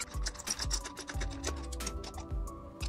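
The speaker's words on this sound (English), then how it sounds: "open this camera" A CCTV camera housing is pried and twisted open with quiet clicking, ratcheting plastic snaps and small rattles in an irregular sequence, close to the microphone.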